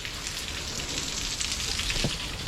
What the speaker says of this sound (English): the rain is supposed to stop in like maybe 34 minutes